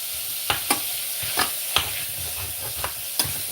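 Minced pork is stir-fried in a pan, a steady close sizzle broken by a few sharp scrapes of the spatula.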